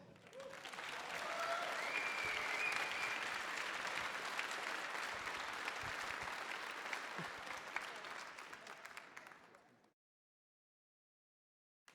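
Audience applause fills a hall at the Revision 2017 demoparty, a dense, steady wash of clapping that holds for about ten seconds and then stops abruptly, leaving silence.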